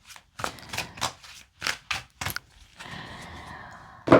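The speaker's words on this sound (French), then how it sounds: "je mélange les cartes" Tarot cards shuffled in a series of quick riffling bursts, about eight short rustles followed by a steadier, longer slide of cards, close and fairly quiet.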